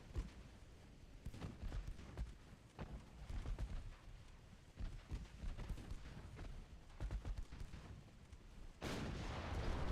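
Naval guns fire in a German fleet battle in the Ultimate Admiral Dreadnoughts video game: repeated muffled booms and cracks at an irregular rhythm, fairly faint, with no talk over them.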